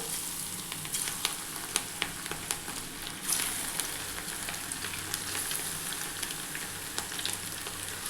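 Netthili (anchovy) fish pakoda sizzling steadily in hot oil in a kadai, a continuous close crackle dotted with small sharp pops.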